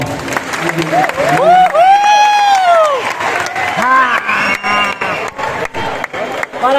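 Applause, cheering and shouts fill a graduation ceremony hall, a loud crowd roaring with high whoops and yells over continuous clapping, close and energetic.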